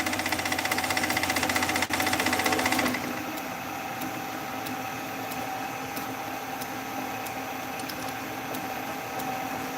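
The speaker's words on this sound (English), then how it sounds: "That pulley for some reason is making that noise and that slow speed." A pulley on a belt-driven machine turning at slow belt speed gives a steady mechanical hum with a rapid rattling whine that drops in pitch after a few seconds, then runs on evenly, close and moderately loud.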